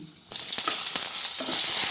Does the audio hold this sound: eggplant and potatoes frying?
yes